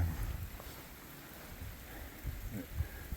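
Rain falls steadily around hikers on a mountain trail climbing Baker Peak, a faint, even hiss with soft low rumbles and occasional patters, no talk.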